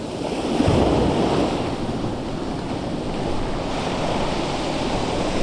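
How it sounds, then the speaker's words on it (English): Ocean waves break and wash up the beach at Filey, a continuous loud roar of surf with wind buffeting the microphone and a slightly stronger surge near the start, no voices. "When you see that wave breaking there"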